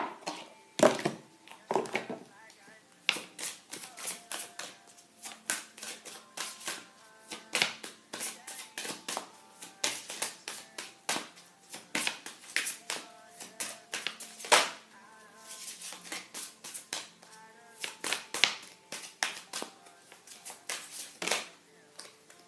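Tarot or oracle cards being shuffled by hand, a steady run of quick papery riffles and soft slaps that repeats close up and fairly quietly for the whole stretch, with no talking over it.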